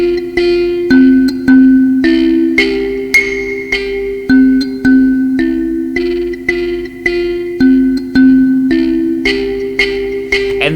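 An mbira plays a repeating left-hand pattern of plucked metal tines, bright ringing notes struck in a steady loping rhythm, close and clear with no voices.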